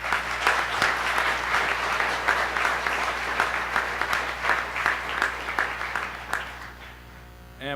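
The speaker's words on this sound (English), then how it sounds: "So they certainly deserve a round of applause." An audience at a school awards ceremony applauds with sustained clapping over a faint electrical hum, the clapping thinning out toward the end.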